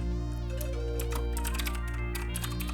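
Fast, irregular clicking of typing on a computer keyboard, heard close over a constant steady electronic hum with layered tones, and no voices.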